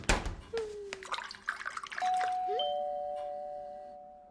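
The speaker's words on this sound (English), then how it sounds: "Who's ringing the bell?" A cartoon doorbell chime rings out in a few bright tones that hang and decay slowly, following some clatter and splashy noises; no voices.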